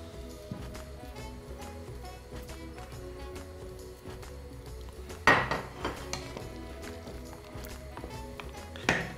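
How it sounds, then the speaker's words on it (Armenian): Kufta meatballs drop into a pot of cooking bulgur soup, giving a couple of brief clattering splashes against the pot over a steady tonal background. "Հենց բլղուրը եփեց, գցում ենք իջլի Քուֆթաները և համեմում աղով։"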